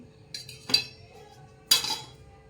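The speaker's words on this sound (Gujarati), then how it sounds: "બધું મિક્સ કરી દઈશું." A spoon mixes a spiced gram-flour mixture with oil and lemon juice in a metal pot, giving two sharp, close clinks and light scraping in a quiet room.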